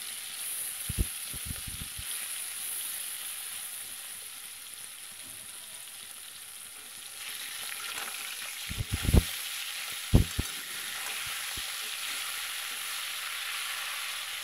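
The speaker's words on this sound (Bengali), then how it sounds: "এক এক করে মাছগুলো এবার দিয়ে দিচ্ছি।" Snakehead fish frying in hot oil in a wok, giving a steady soft sizzle with scattered sharp clicks and taps from the pieces and utensil, no voices.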